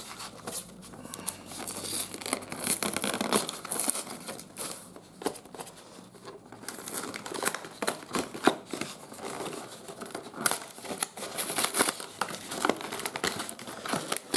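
Packaging of a Magic: The Gathering starter deck box being unwrapped, with continuous close crinkling and tearing of plastic wrap in irregular bursts throughout.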